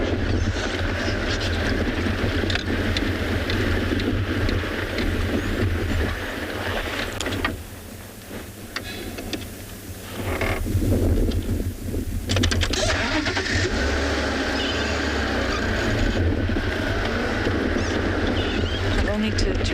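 A safari vehicle's engine idles and rumbles steadily throughout, close and continuous, with a brief dip in the middle before it carries on, while talk runs over it.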